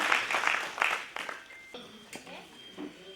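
Applause from an assembled audience at a World Human Rights Day gathering, a burst of clapping that is loudest at the start and thins out over a few seconds while voices murmur underneath.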